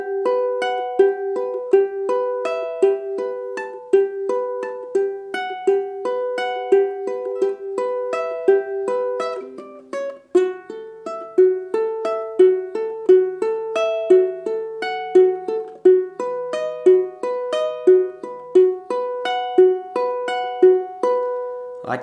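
Ukulele playing a song, a plucked and strummed chord progression with repeating melodic notes, steady rhythm, close and clear without any talking.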